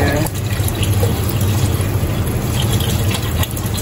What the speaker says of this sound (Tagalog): Tsaka siya lagyan ng tubig.